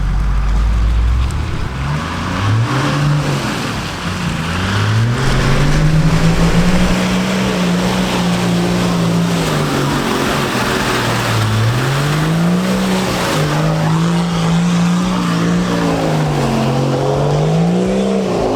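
Nissan Patrol or Landcruiser 4x4 on new tyres driving at full throttle through off-road ruts, a loud sustained engine drone whose pitch rises and dips as the vehicle bogs and accelerates, heard from inside the cab.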